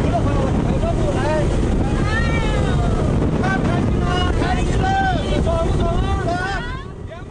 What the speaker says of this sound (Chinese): 除了老少皆宜的快艇